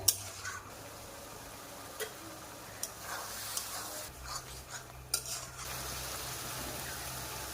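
Prawns being stir-fried into a Bengali-style dry curry in a pan without coconut milk: a steady low scrape and sizzle with occasional sharp clinks of the spatula against the pan, fairly quiet, no voices.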